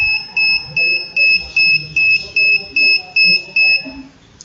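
A piezo buzzer on a home security microcontroller alarm sounds a steady series of about ten evenly spaced shrill beeps, loud and close, with faint room noise between them.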